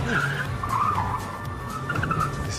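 Tires on a Mini Cooper D squeal and skid through a handbrake turn, with wavering screeches over a steady engine drone, close and fairly loud, and no talking.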